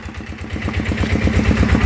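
An old engine-driven water pump on a farm during the dry season chugs steadily and close by, a rapid rhythmic thudding idle that builds slightly in loudness.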